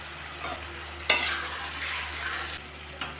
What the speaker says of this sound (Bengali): এখন আমি ভালো করে আলুর সাথে মশলাটাকে কষিয়ে নিব